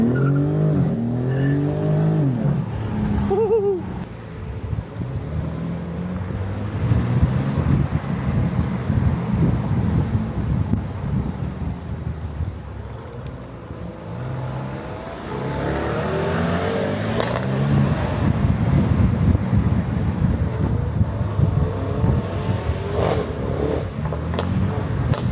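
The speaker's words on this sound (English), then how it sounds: "his car is stupid fucking loud." A loud car engine revs and roars up close, rising and falling as it accelerates and drives, with tire noise and brief squeals in between.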